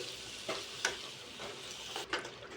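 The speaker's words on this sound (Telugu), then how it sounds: "అవి యాడ్ చేసుకొని మళ్ళీ ఒకసారి మిక్స్ చేసుకోండి" Potato pieces get stirred into a simmering curry in a pan, a soft, continuous sizzle broken by a few brief scraping clinks of the spoon.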